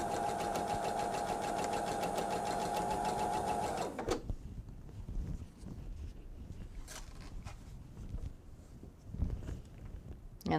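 A sewing machine stitches pieces on in a steady loud whir for about four seconds, then stops, leaving quieter handling and fabric rustle nearby.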